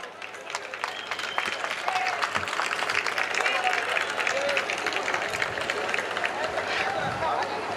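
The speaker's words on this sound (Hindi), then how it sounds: "अपने वैधीकरण के लिए जरूर ताली बजाइए" Sustained applause from a large ceremony audience rolls on for several seconds, dense and even, with scattered murmurs and voices mixed into the clapping.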